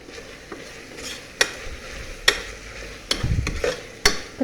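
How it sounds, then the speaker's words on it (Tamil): Tomato sautéing in a pressure cooker pot for Hyderabadi mutton biryani: a low sizzle broken by sharp spoon clacks and scraping stirs at irregular intervals, close up, with no speech. "இப்போ தக்காளி நல்லா வதங்கட்டும்."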